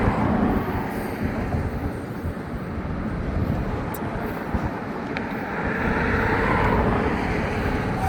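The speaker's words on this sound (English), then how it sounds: "Oh, I see the end of the train though." A slow freight train crawls through downtown St. Augustine Beach under a speed restriction for track maintenance, a steady low rumble at moderate distance with faint metallic ticks and no talking.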